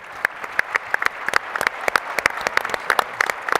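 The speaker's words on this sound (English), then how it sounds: "Let's give our panelists a big round of applause." Applause from a conference keynote audience for the panelists, a thinner crowd of distinct individual claps forming an irregular, fairly close patter with no talk over it.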